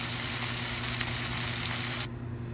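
Tomato frying with other ingredients in a pan for ginisang buto ng sitaw, a loud, steady sizzling hiss that cuts off abruptly near the end.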